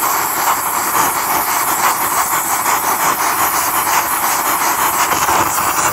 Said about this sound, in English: Why have I got the oxyacetylene torch blasting away with expensive gas and compressed oxygen?